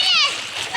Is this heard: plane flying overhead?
no